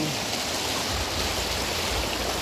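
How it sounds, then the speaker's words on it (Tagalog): Steady soft hiss of light drizzle falling, broadband and constant, with faint low rumbling underneath and no voices. "Actually, umaambon na ngayon."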